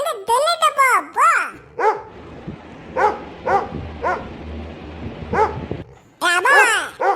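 A cartoon dog barks and yips in short repeated bursts, mid-distance and fairly loud, alternating with animated voices talking before and after.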